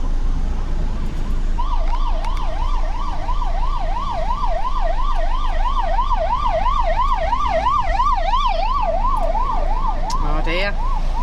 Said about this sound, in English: You can hear sirens coming now as well. Coming down now, I think, like an ambulance or something.